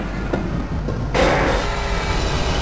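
A train moves in the video game Half-Life, a low, continuous rumble that swells suddenly louder about a second in and then holds steady, with no speech.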